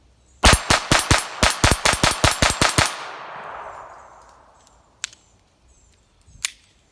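A Smith & Wesson 422 .22 pistol fired in a quick string of about twelve sharp cracks, evenly spaced and loud, followed by fading echo and two isolated clicks or shots later.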